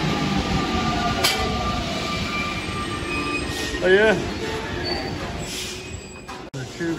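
A Paris Metro train rumbles and screeches on its rails at a station, wheels squealing faintly as it pulls away from the other platform, with a brief exclamation from someone nearby.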